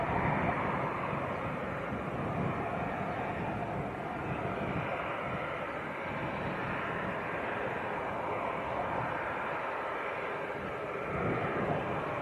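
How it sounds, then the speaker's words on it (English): A Jet2 Boeing 737 taxiing out at Leeds Bradford Airport, its engines producing a steady, moderately distant broadband rumble and whine that holds evenly throughout with no voices. "Jet 2 737 taxiing out."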